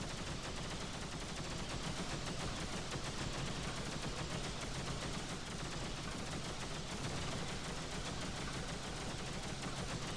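Spaceship cannons in the space game X3: Albion Prelude fire in a fast, unbroken pulsing stream that holds an even level for the whole stretch, quiet overall, with no talking.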